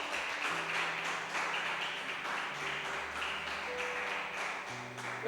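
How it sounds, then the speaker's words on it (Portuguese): Church congregation applauding, a dense continuous wash of many hands clapping steadily throughout, with sustained instrumental tones underneath and no speech. "Você pode aplaudir o Senhor?"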